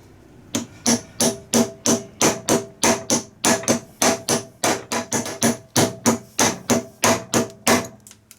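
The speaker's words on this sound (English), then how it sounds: "Let me get the hammer again." Heavy metallic hammer blows drive a bearing into place on a Bosch alternator, striking in a steady rhythm, about two per second, close and loud, with bright ringing on each hit and no talking.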